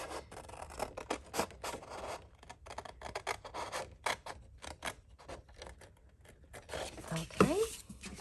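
Paper being trimmed by hand with scissors for a 12x12 one-sheet journal craft, faint repeated snipping and rustling at close range, with a person talking over it.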